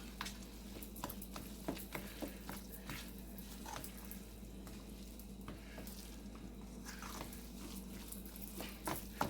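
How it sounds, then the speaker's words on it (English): Ground turkey meat being stirred with seasonings in a pan gives a soft, steady sizzle with scattered scraping and clicking from the utensil, fairly quiet and close, without talk. "Mix all them seasonings in there."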